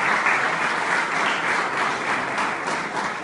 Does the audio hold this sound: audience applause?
yes